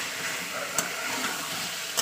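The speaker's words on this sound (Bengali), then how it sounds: "এবার আমি আলুটাকেও তেলের সঙ্গে ভাজা করে নেবো" Potato pieces fry in hot oil for an aloo chicken kosha, giving a steady close sizzle with a couple of sharp crackles along the way.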